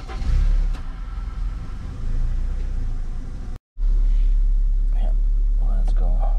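A Honda CR-V engine cranks and catches, then idles with a steady low rumble after a brief silent gap; people talk over the running engine near the end.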